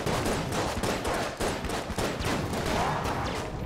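Marine sidearm firing in the game Enter the Gungeon, a dense, loud, rapid string of shots that continues without a break for several seconds and has no talking over it.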